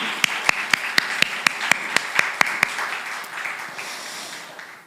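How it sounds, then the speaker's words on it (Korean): A church congregation claps together, starting as a dozen or so sharp, evenly spaced claps and then breaking into scattered, softer applause that fades out, with no voices over it. "하나님께 영광의 박수를 올립니다"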